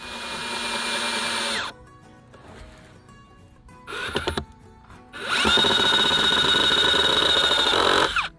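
A power drill drives screws into the corners of a wooden raised garden bed: two loud, sustained whirring bursts with a shorter burst between, separated by quiet pauses.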